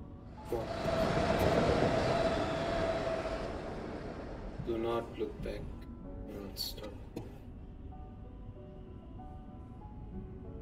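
A train in a video game rushes past with a loud, broad roar that swells and then fades after a few seconds. Scattered clanks and a quieter hum follow.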